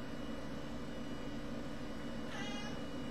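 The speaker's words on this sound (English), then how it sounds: "This cat is working me. He's trying to get me to pet him." A pet cat gives a single brief meow midway, heard faintly over a steady low hum of background noise.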